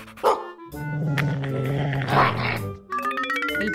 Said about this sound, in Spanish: Esa chica es perseguida por un perro.